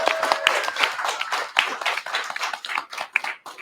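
An audience at a Social Media Breakfast Madison event applauds the group's leadership, a dense, close round of clapping hands that holds steady for several seconds without talk.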